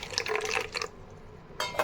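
Lukewarm water is poured into a bowl holding a spoonful of sugar to start pizza dough: a short splashing pour, a brief pause, then another quick splash.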